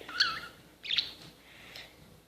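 Pet birds chirping indoors, three short bright tweets spaced apart, close and fairly clear over quiet room noise.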